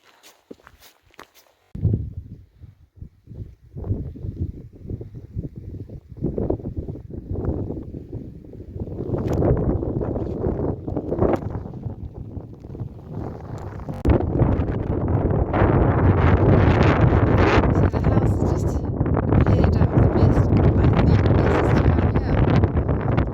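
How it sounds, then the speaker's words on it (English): Footsteps crunch steadily over rough moorland ground on the Pennine Way between Keld and Middleton-in-Teesdale while gusty wind buffets the microphone, the roar growing stronger and more constant in the second half. "I can hear the wind."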